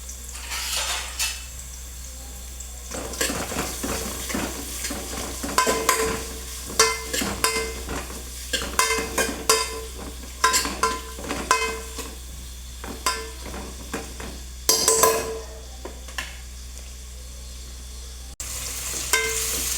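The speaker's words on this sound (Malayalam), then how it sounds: "സവോള ഇട്ടി പിന്നെ ഇളക്കിക്കൊടുക്കാം." Chopped onions fry in hot oil while a spoon stirs them, producing a constant loud sizzle broken by repeated scraping and clinks against the pan, with no voices.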